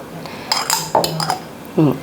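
A spoon scoops chili from a dish for a Vietnamese rice-paper snack, giving a few light metallic clinks and scrapes against the bowl in a quiet kitchen.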